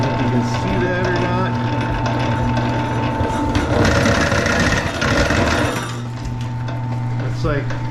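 A new electric wire stripper machine hums and grinds through copper and aluminum wire, a constant loud motor drone with scraping cutting texture throughout, while someone talks over it.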